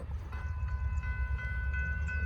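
Norfolk Southern freight train PO9 rumbles steadily nearby in Gaffney, South Carolina, with a low continuous roll and a faint sustained horn-like tone.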